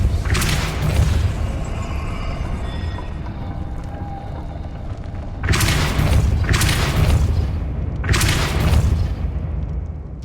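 Three heavy booming bursts of a Depulso spell cast in Hogwarts Legacy follow one another about a second apart, loud and punchy over a low game ambience, with an earlier muffled thump.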